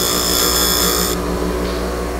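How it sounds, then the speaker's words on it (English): Steady high-pitched whine of a grinder sharpening the bevel of a woodturning tool, loud and continuous with a slight drop in pitch partway through, no talking. "I'm going to grind the bevel at the angle that I want it to be."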